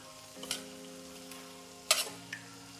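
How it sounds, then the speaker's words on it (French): Veal stock poured into a hot pan just after flambéing a three-pepper sauce, giving a short sizzling burst, then a louder, sharper sizzle that fades over a steady low background. "Maintenant, je vais ajouter mon fond de veau."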